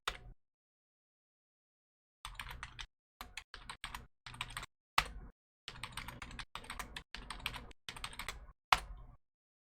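Keys clatter on a computer keyboard as a user account name is typed, in quick close bursts of clicks separated by short pauses after an initial silence.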